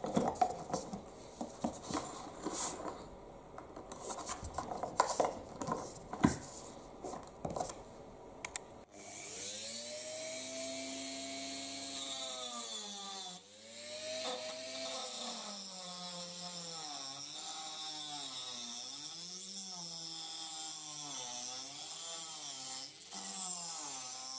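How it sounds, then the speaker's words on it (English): A Dremel rotary tool trims a plastic part of a Bruder CAT telehandler model. Scattered handling clicks and taps come first, then a close, steady high whine whose pitch dips and rises as the cut bears down. "I'm just going to trim that off using the Dremel."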